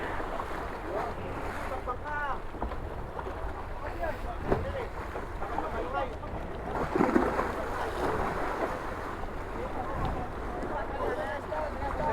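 Rough sea waves slosh and break around a boat on a long-distance Luzon trip, with wind buffeting the microphone and engine rumble beneath, while people talk and call out over the constant wash of the water.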